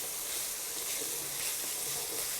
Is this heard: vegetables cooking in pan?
yes